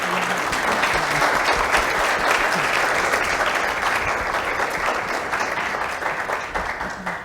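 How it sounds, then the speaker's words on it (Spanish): A conference audience applauds panelists at an identity and e-government forum: dense, sustained clapping from a full room, loud and even throughout, tapering slightly toward the end. "quiero pedirles un aplauso para los excelentes"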